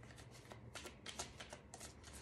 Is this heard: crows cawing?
no